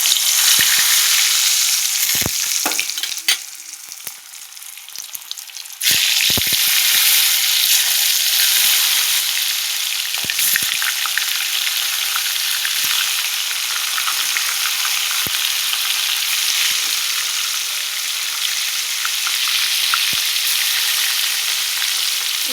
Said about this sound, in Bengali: কড়াই বসিয়ে দিয়েছি, তেল গরম হয়ে গেছে। এখন পটলটা ভেজে নেব আগে।